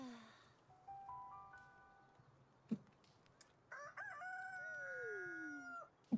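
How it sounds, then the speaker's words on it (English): Chickens in the video game Palworld, two bursts of rooster crowing, the first softer and stepped, the second louder and drawn out, separated by a brief knock in a quiet background. "I heard the chickens"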